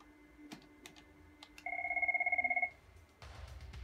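A Cisco IP desk phone on a CUCM system rings on its second line extension with one clean electronic two-tone ring burst, preceded by faint clicks and followed by a low shuffling noise.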